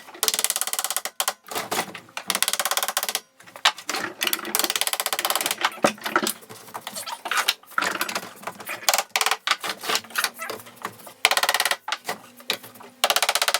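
A screw driven into wood with a power driver in a small shop, giving loud, close whirring bursts that repeatedly start and stop with brief pauses between.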